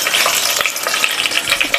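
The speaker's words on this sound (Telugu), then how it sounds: "ఆయిల్ వేడైంది కదా, దీంట్లో బగారాకు, చెక్క, అనాసపు కొంచెమే వేస్తున్నా, షాజీరా" Whole spices (cinnamon, star anise, shahi jeera, cardamom, cloves) crackle and sizzle in hot oil for bagara rice, a dense steady frying hiss with small pops throughout, close and loud, no voices.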